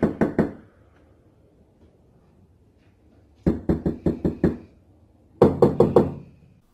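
Three bursts of firm knuckle knocks land on a locked door after hours, four or five raps each, separated by silent pauses. Close and loud, with no voices.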